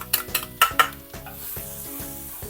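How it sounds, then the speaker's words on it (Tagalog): Minced garlic hits hot cooking oil in a pan, with a few sharp clinks of a utensil against the pan up front, then a steady soft sizzle and repeated stirring scrapes. "At syempre, pag mainit na yan, pwede na nating ilagay itong minced garlic."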